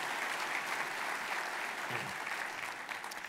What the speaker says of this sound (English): How about a round of applause for our commitment to the arts